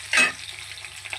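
Green chillies and tomato frying in oil as they are stirred, with a brief louder scrape-and-sizzle at the start that settles into a soft, steady crackle, heard up close and alone.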